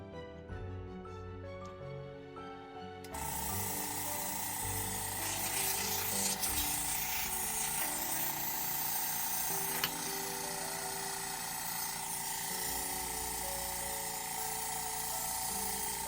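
An airbrush compressor starts abruptly and runs loudly and steadily, a dense continuous hum with a broad airy hiss, with no talk.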